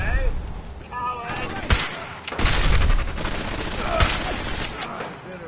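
Gunfire in the video game Fallout 4, sharp shots and rattling bursts over a noisy battle din, with voices shouting and talking amid the shooting.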